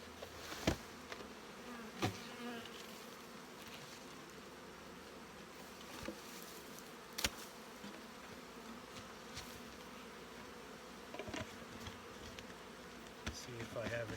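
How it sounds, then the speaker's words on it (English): Honey bees hum steadily in an open hive during a September brood nest inspection. The close, even drone continues throughout with a few sharp clicks and knocks and no talking. "Get about 200 bees or whatever in there."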